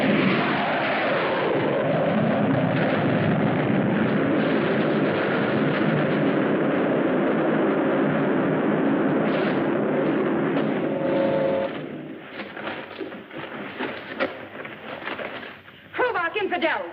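A weapon fires in the 1954 sci-fi film Menace from Outer Space, a long loud roaring blast that fades into crackling rumble, with voices shouting over it.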